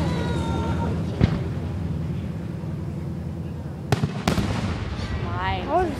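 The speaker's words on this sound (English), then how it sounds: "It's fireworks." A few sharp fireworks bangs pop out over steady background noise and chattering voices in Nebraska, with a crackling burst near the end.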